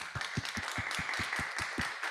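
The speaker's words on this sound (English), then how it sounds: "So another round of applause for the team at Lens AI." An audience at the Fall Summit 2021 conference claps for the team at Lens AI. Steady, evenly spaced claps keep up a brisk rhythm throughout, with no voices.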